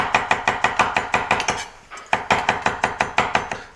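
Fast, even knife strokes on a cutting board as mushrooms and vegetables are chopped for a doubanjiang stir-fry, sharp evenly spaced taps in two quick bursts separated by a brief pause.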